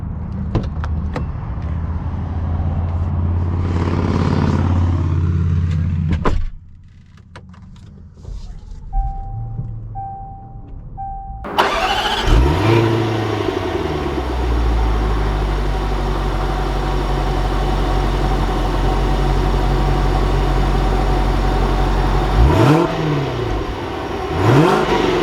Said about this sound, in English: Let's take this bad boy Range Rover out and see how she drives.